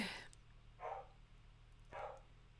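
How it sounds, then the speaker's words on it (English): A dog barks indoors, three short faint barks spaced about a second apart against a quiet background hum. "As soon as I paused it, he stopped barking."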